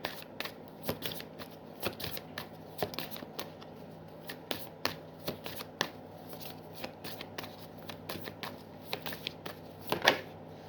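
Tarot cards being shuffled and dealt, a steady run of crisp riffling flicks and soft slaps close by, with occasional sharper snaps; no talk.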